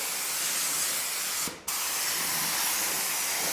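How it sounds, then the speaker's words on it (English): A spray gun lays a light coat of sealer on a Camaro body panel, a steady close hiss running throughout with one brief dip partway through. "So we're just going to put a nice light coat of sealer here."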